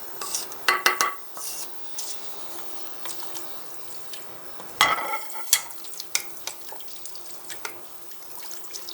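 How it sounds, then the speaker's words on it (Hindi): Fried onions are tipped from a spoon onto haleem lentils cooking in a pot, giving a few close clinks of utensil against metal and soft wet stirring sounds, with quiet gaps between and no talking. "अब इसके ऊपर हमने ऐड करना है ऑनियन जो मैंने पहले से फ्राई करके रखी हुई थी।"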